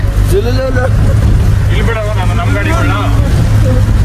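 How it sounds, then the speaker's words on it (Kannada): A jeep engine drones steadily and loudly in the background while people talk over it throughout. "ಹೋಯ್ತಾ ಇದೀವಿ ಜೀಪಲ್ಲಿ."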